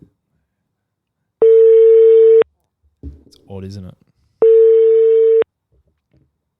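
Telephone ringing tone on an outgoing call: two long single-pitch electronic tone bursts about three seconds apart, loud and clean, with a brief spoken remark between them.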